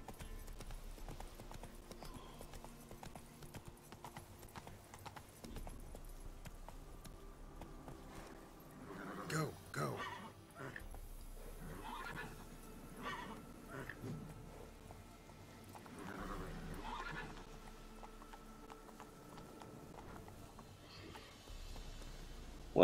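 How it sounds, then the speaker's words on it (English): A horse in The Witcher 3: Wild Hunt on PS5 clip-clops along in rhythmic hoofbeats, with a possible brief whinny and someone talking intermittently over the steady gait. "Sometimes a horse in this game, I swear."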